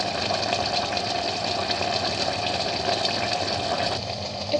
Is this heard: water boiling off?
yes